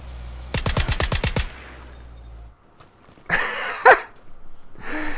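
Gunfire in the battle-royale game PUBG: a quick burst of about eight sharp automatic shots comes early, followed by quieter game noises and a couple of short, clattering bursts later.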